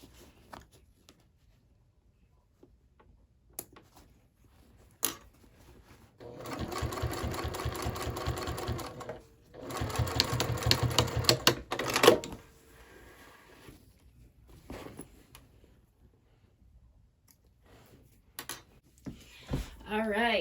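A sewing machine top stitches a handbag in two close, loud runs of several seconds each, separated by a brief pause, with scattered clicks and handling noises in the quieter stretches around them.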